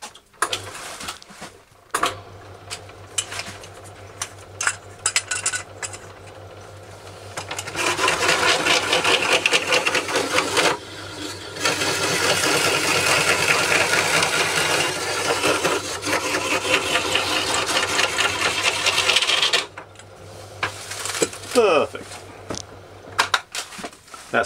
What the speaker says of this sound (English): go over with the trapping plane, which is this tool, and just take it, taper it slightly